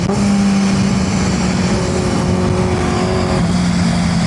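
A Kawasaki Ninja H2 motorcycle on a highway: a loud, steady engine drone with shifting pitch and strong wind rush throughout.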